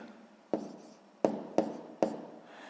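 Numbers are written by hand in sharp, close scratching strokes, four distinct marks with short pauses between them in a quiet room.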